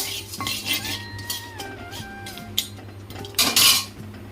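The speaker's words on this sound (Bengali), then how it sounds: "এগুলো একটু হালকা ড্রাই রোস্ট করে ঠান্ডা হলে পরে এটা গুঁড়া করে নেব" Whole nutmeg, mace, cloves, cardamom, cinnamon and bay leaves are dry-roasted in a pan, heard as a spatula clinking and scraping against the metal in short irregular strokes, close by with no talk.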